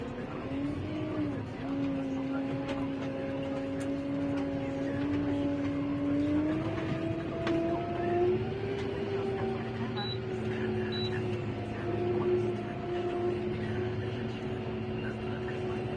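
A Kubota tractor hauling manure to a heap drones steadily, its engine hum slowly rising in pitch as it drives, with someone talking over it.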